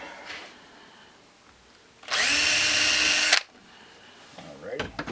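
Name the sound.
power drill drilling a hole in model railroad track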